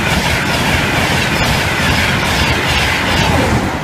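A Virgin Trains East Coast Intercity 225 bound from Aberdeen to London King's Cross thunders past a level crossing, a loud, continuous close-up roar of wheels and rushing air with no pauses.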